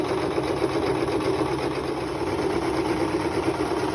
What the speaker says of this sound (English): In here I'm just showing you how to sew this end on my sewing machine.